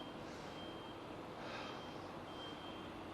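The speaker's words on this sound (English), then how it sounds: "There's another lorry there just going to reverse back into one of the bays there." A lorry reverses into a loading bay, sounding faint, repeated reversing beeps at a distance over a steady wash of traffic and engine rumble.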